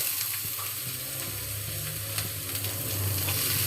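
Onion frying in a pan for Filipino chicken tinola sizzles steadily and loudly up close, with faint stirring scrapes and no talking.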